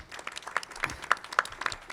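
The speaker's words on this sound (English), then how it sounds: "Round of applause." Sparse, quiet applause from a small audience at a pancreatic cancer event, a handful of distinct claps spaced evenly and sounding somewhat distant.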